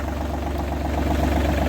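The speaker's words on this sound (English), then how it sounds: "Always like to start the engine" An engine on a tractor spraying rig runs at a steady idle, a constant low throbbing hum with no talk over it.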